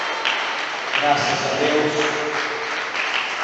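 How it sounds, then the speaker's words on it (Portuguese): Congregation in a church applauding together in a steady broadband patter lasting several seconds, with voices calling out over the clapping. "Dê uma salva de palmas para Jesus, bem alegre."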